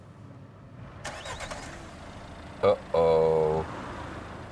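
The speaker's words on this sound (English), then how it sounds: "It just started up again. I haven't put it in gear, I haven't touched anything, I haven't declutched." A car's stop/start system restarting the engine while stopped at roadwork traffic lights, a brief starter whirr followed by the engine catching into a steady idle, heard from inside the cabin with a short spoken exclamation.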